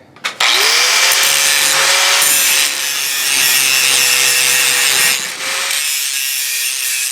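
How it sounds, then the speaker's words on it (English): A steel felling wedge is ground on a power grinder, a loud sustained rasping whine that runs for several seconds, dips briefly, then resumes at similar strength. "you want to grind these until you get a nice transition from the wedge"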